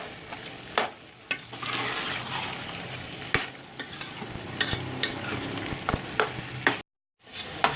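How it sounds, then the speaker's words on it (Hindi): Turnips frying with ginger for a turnip and meat curry, a steady close sizzle broken by scraping stirs of a spoon against the pan, with a short gap near the end. "अब हम शलजमों को भूनते भूनते इसमें अदरक भी शामिल कर देंगे"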